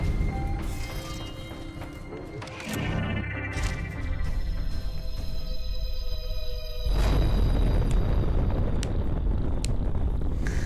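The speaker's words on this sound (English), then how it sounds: "annihilate the mission area with a nuclear explosion" Nuclear explosion in the Riftbreaker video game, a heavy, roaring rumble with layered game effects and tones, swelling into a louder, deeper blast partway through and sustaining to the end.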